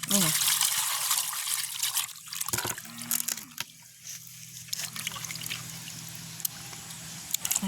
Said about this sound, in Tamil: நாங்கள் மீனை வெட்டி எடுத்துட்டோம் நல்லா கழுவுவோம்